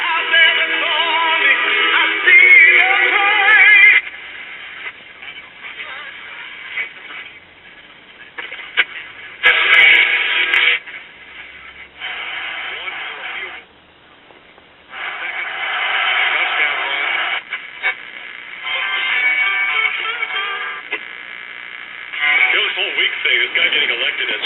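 A circa 1967 Arvin-built Sears Silvertone AM transistor radio plays a broadcast of talk and music after repair, with the thin, narrow, hissy tone of a small speaker, loud and steady with brief dips.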